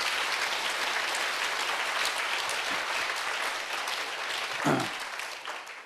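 A congregation at a Korean Sunday worship service applauds, giving a dense, even wash of many hands clapping that holds steady throughout and fades slightly toward the close.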